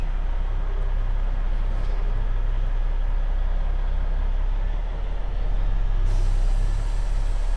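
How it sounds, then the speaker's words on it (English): Parked truck with an unloaded deck, air brakes releasing in a steady loud hiss of escaping air over low engine rumble, with a sharper burst of air near the end. "Probably have to release the brakes before the truck wants to move."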